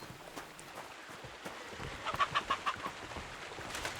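Faint clucking from a rooster in Kingdom Come: Deliverance 2, a short run of quick clucks in the middle over a low, noisy game background.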